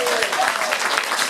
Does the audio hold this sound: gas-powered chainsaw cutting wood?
no